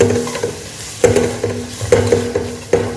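Onions cook in a pan with no oil and are stirred hard, producing loud, close scraping strokes roughly every half second over a soft, dry sizzle, with no speech.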